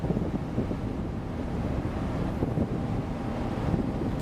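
Strong wind buffets the microphone aboard an offshore ship in the Campos Basin during rough weather at sea, a steady loud roar mixed with wave and engine rumble, continuous with no talk.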